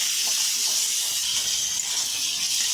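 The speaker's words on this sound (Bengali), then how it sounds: "এবার ভালো করে নাড়াচাড়া করবো" Mustard, chilli and hilsa fish curry sizzles in a pan while being stirred, a steady close hiss of frying that stays even throughout with faint scraping underneath.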